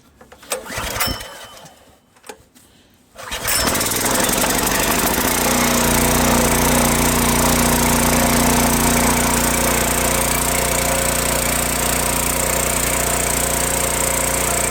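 A small petrol engine suspected of needing a carburetor clean sputters briefly, then catches and roars to a loud, steady high-revving run that holds for the rest of the stretch.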